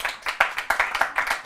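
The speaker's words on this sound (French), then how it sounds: "Par applaudissement, qui est en couple ce soir?" An audience at a French evening television show claps in short bursts, a close crowd of hands with rhythmic peaks, no talking over it.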